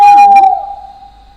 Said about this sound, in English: Is that an owl?